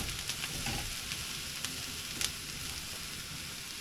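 Portobello and white button mushrooms fry in a pan over medium heat on a gas stove, giving a steady close sizzle with faint crackles and the odd sharper pop, with no voices.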